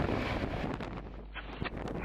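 Gusty wind at an airport buffets the microphone in loud rumbling surges that ease and then pick up again, with no one speaking.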